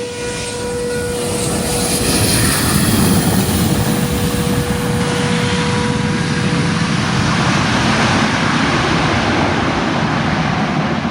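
A Learjet private jet at the airport in Tuvalu, its engine a steady, loud broadband roar that swells early and holds close and constant throughout, with no talking.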